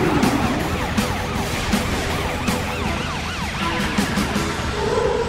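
A cartoon police patrol car's siren wails in steady, repeating rising and falling sweeps, loud and continuous over a busy backing.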